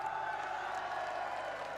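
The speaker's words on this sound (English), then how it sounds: "there's a big whoa going up down there in Parc Ferme now as they get ready to cheer" A distant crowd at the 2005 Valencia MotoGP podium in Parc Ferme raises a steady, broad roar of cheering and whooping, sustained without breaks and heard from afar.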